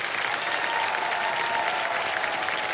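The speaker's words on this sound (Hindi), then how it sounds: "एक बार जोरदार तालियां बज जाए साधना जी के लिए" Loud, continuous clapping from a studio audience on the game show Kaun Banega Crorepati, a thick wash of applause at steady intensity with no one speaking over it.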